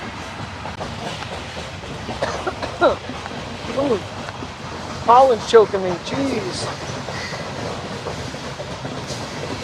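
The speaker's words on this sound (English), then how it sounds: "Goddamn train, you're loud." A train rumbles past with a steady rolling roar underneath, while a person speaks a few short remarks over it.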